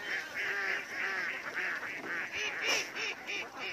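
A flock of ducks in a rice-field setting quacking repeatedly in quick, overlapping calls, fairly close and steady throughout with no talk over them.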